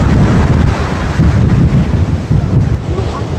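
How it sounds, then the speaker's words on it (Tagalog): Strong gusting wind buffets the microphone in loud rumbling bursts, with surf washing in the background, on the beach front of Fort Olocanja. "Lakas ng hangin."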